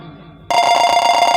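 A telephone rings during a Hindi nautanki stage drama, with a loud, steady electronic ring that starts suddenly after a moment of quieter sound and holds on.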